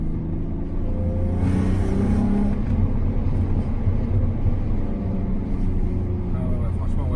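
A 3.2 litre V6 car engine rumbles steadily with a low throaty drone and small exhaust pops, heard close throughout while people talk over it.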